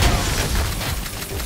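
A grenade blast in the shooter game Ion Fury, a dense boom with a rumbling low end that fills the moment, followed by a lingering crackle of debris and noise as it dies away, with no talking.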